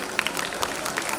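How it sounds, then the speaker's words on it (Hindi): Brief, scattered clapping from an audience greets Riddhi Gupta as she comes on stage to give a speech, a short burst of light applause. "जोरदार ताली।"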